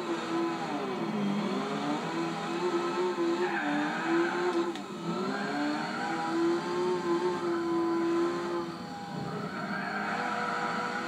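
Race car in Gran Turismo 4 on PlayStation 2, a rear-wheel-drive machine, engine droning steadily with rising and falling revs and tire skids squealing through the run, loud and continuous with no talking.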